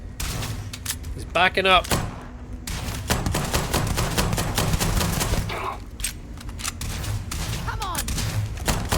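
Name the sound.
gunfire at heavily armored enemy in video game Starfield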